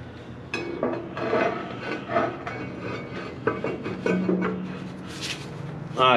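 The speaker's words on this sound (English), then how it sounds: "now we're gonna try to get the brake drum back on there" A worn rear brake drum is worked back onto a Ford 3000 tractor, giving irregular metallic scraping and rubbing bursts with a few knocks, close and moderately loud, without speech.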